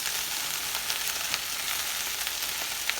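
Okra and shrimp sizzle steadily in a pan while being stirred, a continuous bright frying hiss with small pops and scrapes scattered throughout, close and even in level.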